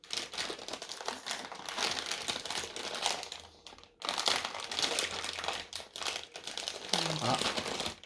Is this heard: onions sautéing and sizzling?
no